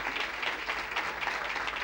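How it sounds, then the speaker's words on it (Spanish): Conference attendees applaud during a business talk, a soft, steady wash of clapping from a seated crowd, fairly faint and even across the brief moment. "Un aplauso porque esto es un verdadero milagro."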